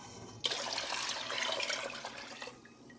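Rice water poured into a pot for pickling mustard greens makes a soft, steady splashing stream lasting about two seconds, fairly quiet and close, then stops.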